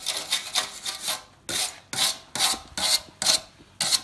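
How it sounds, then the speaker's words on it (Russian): A polymer brush scrubs a stainless steel ship exhaust compensator before welding repair, making loud rhythmic rasping bursts with short pauses between strokes, up close and with no talk. "Сейчас здесь зачищу. Есть у меня щеточка вот такая полимерная."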